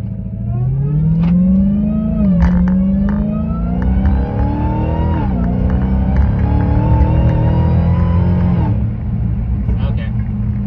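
A 2017 Dodge Charger SRT Hellcat accelerates hard, its engine note climbing steadily through the gears with a brief dip at each shift, loud and close from inside the car before it settles to a steady drone.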